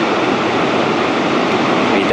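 Vøringsfossen waterfall pours down through fog as a steady, dense roar of rushing water, loud and unbroken from start to end.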